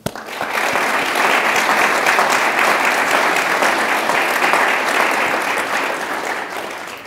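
An audience at a lecture on finance and Catholic social doctrine bursts into sustained, even applause welcoming Chairman Giancarlo, loud and steady for several seconds before easing off.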